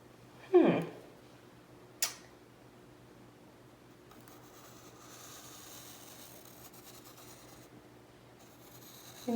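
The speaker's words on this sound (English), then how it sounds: "Let's try a colored pencil." A colored pencil draws on a sheet of paper with a faint, soft scratching that continues steadily in a quiet room. A couple of brief louder knocks come earlier.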